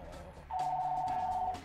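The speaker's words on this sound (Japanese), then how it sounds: "いいタイミングで電話が鳴るんだもの" A telephone rings with one sustained electronic tone of about a second over faint room noise, with no talking.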